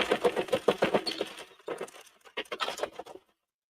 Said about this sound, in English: Now we're just going to go around twice, and the project is going to fall off of the machine.